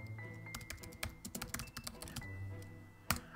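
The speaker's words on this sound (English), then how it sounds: "I'd be typing." Quiet, quick clatter of keys on a computer keyboard while a message is typed into a Microsoft Teams chat, irregular bursts of close taps with brief pauses and one sharper keystroke near the end.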